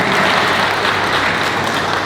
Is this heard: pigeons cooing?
no